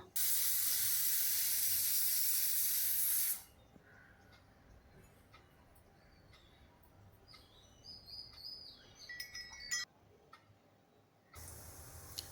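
Small onions drop into hot oil in a kadhai for a Tamil-style mutton semi-gravy and give off a loud, hissing sizzle for a few seconds. The sizzle then gives way to quiet, with birds chirping in the background.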